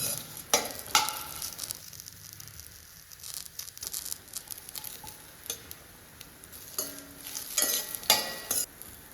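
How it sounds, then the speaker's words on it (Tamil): Bitter gourd frying in a pan for chutney while a spoon stirs it, with steady sizzling under repeated scraping strokes, close and fairly loud, no voices. "நம்ம நல்லா கிண்டி விட்டுட்டே இருக்கணும்."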